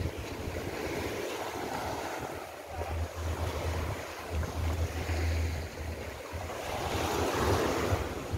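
Waves wash onto a beach in Cancun, Mexico, a steady broad surf roar with wind buffeting the microphone and a low rumble underneath, continuous and fairly close.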